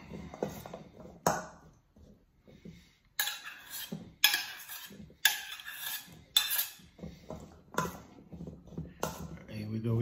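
Marinated olives in oil are mixed in a bowl, with intermittent clinks and scrapes of utensil against the dish, close by and interleaved with a speaking voice.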